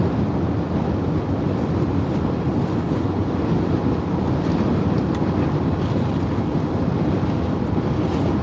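Wind buffets the microphone during a Saturday afternoon drive from Phoenix toward Las Vegas, a constant loud rushing roar with no pauses and no voices.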